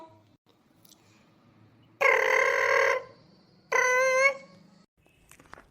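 Two long electronic ringback tones sound on a phone line, separated by a short pause, clear and fairly loud over a quiet background.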